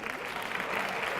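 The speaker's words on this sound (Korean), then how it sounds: "자, 박수." A school lecture audience in a hall applauds together, a steady dense wash of clapping hands with no talk over it.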